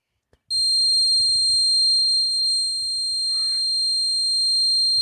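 A buzzer sounds as it drives a piezoelectric generator, producing a loud, steady high-pitched electronic tone that starts abruptly and holds continuously, with faint low rumbles and handling noise beneath it.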